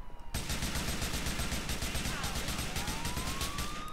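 A police car siren wails through the Grand Theft Auto IV game soundscape, rising and sweeping steadily over a dense bed of rapid gunfire and engine noise that starts abruptly and stays loud throughout.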